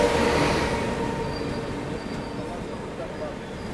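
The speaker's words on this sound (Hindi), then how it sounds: "दीक्षा भूमि जो है वो आ रही है ओवरटेक करने के लिए अपनी ट्रेन को।" The Deekshabhoomi Express, a Kolhapur to Dhanbad train, rolls past slowly while overtaking, a steady close rumble of wheels with a faint squeal and low hum that eases gradually.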